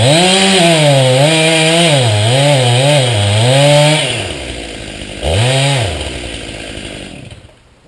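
A chainsaw cuts into a tree, its loud, close engine revving and wavering for about four seconds, dropping to idle, then surging again in one short burst before falling away.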